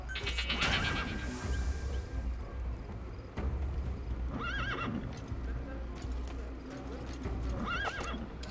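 Horse neighing and whinnying repeatedly in Metal Gear Solid V: The Phantom Pain, with hoof clip-clop and game ambience underneath; the whinnies come in two clear bursts, moderately close.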